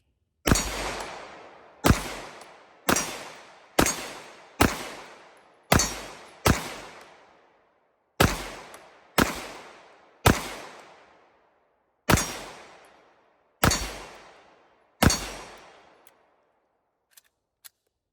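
Canik TTI pistol fired at a range, about thirteen sharp, loud shots spaced roughly a second apart with short gaps, each crack decaying quickly, followed by two faint clicks at the end.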